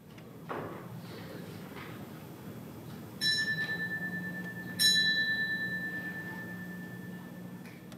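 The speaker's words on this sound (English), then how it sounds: "Now, I will ring the bell twice" A small hand bell at an annual meeting rings twice, two clear bright strikes each with a lingering metallic ring that slowly decays over quiet room noise.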